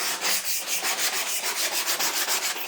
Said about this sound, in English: the P80 softens the corners, so there's going to be an unpleasant sound